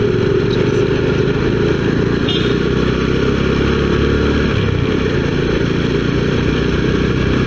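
Motorcycle engine droning steadily while riding on the road from Bangalore to Nandi Hills around sunrise, loud and continuous with wind rumble, a voice talking over it.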